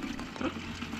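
Tap water runs into a bucket for washing a car, a faint, brief, steady splashing stream.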